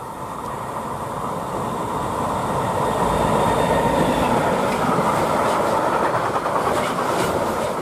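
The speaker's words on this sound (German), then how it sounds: "So, die Lok ist jetzt gerade durch." An RTB Cargo class 186 electric locomotive hauling a freight train rumbles past at close range, a steady loud roar of wheels and wagons with faint clickety-clack and a brief rise in intensity midway, no voices.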